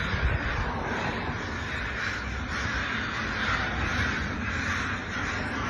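Crows caw loudly and continuously near a bald eagle that died after hitting power lines, a dense agitated chorus of harsh calls over steady outdoor background noise, with no talking.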